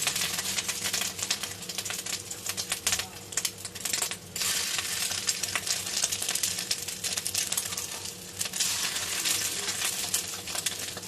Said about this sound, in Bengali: এবার আমি এটা ভেজে নেব বড়ার আকারে।